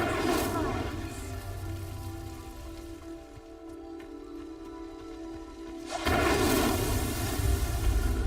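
Incendio fire spell cast in Hogwarts Legacy, a steady crackling, rain-like rush of flame that holds for several seconds, then swells louder near the end with a burst of brighter energy.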